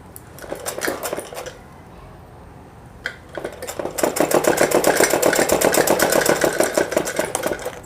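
A sewing machine runs a long stitch along a 31-inch suit, its rapid mechanical chatter starting in a short burst, pausing, then returning steady and loud for several seconds, with no talking.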